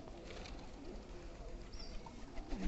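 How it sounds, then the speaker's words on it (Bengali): Pigeons coo softly, low rolling calls rising and falling amid a busy, noisy background, with a brief bird sound near the end. "কবুতরের অসাধারণ অসাধারণ ডাক"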